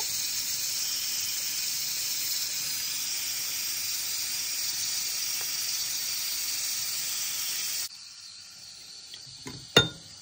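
A pan hisses and sizzles steadily as ghee and water boil while butter is rendered into ghee, then the noise drops away, followed by a short clatter near the end.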